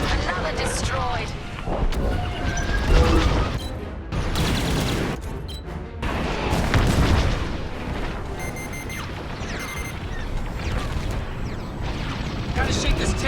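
Starfighter combat in Star Wars: Squadrons, with booming blasts and rumbling explosions as a ship is destroyed, laser fire and cockpit alert tones layered through a dense, loud mix alongside speech.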